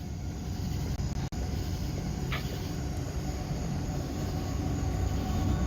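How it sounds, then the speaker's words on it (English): A train rolls past at night in Stockbridge, Georgia, a continuous low rumble of rail cars that grows slightly louder toward the end, with a faint brief squeal partway through. "there's the train"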